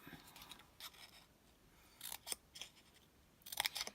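Small scissors snipping through card for a handmade greeting card, a few quiet, close cuts in short bursts at irregular intervals, with no talking.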